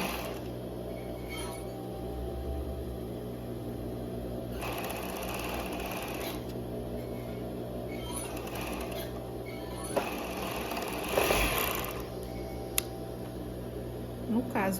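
A sewing machine stitches the seams of a baby romper, running as a steady, close mechanical whir with brief shifts in pace and faint talk in the background.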